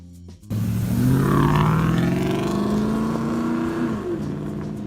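A 1993 Chevrolet Camaro Z28 engine bursts into a loud, rising rev after a brief quiet start, then holds a strong, steady roar up close with no voices.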